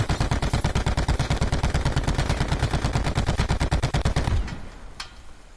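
A vehicle-mounted machine gun fires in the video game Blackout, a loud, steady rapid burst of shots lasting about four seconds before cutting off, with one faint later report.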